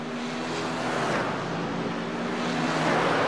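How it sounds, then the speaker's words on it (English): Racing-game GT car sliding through corners at Mid-Ohio, heard as a steady engine drone with a broad tyre hiss that swells and eases, close and continuous with no talk. "I can hear his car sliding around as we continue to watch this battle."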